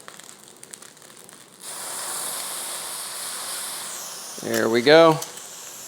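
Shaoxing wine splashed into a hot beef stir-fry sets off a sudden loud, steady steam hiss that carries on after a brief quiet rustle, with a short spoken remark near the end.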